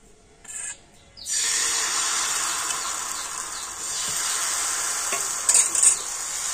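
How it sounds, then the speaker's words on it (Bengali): Batter poured into a hot oiled pan for soft roti, a bright hissing sizzle that starts abruptly after a quiet moment and carries on steadily, close and fairly loud with no talk. "আর একইভাবে আবার আমি ব্যাটার দিয়ে দেব।"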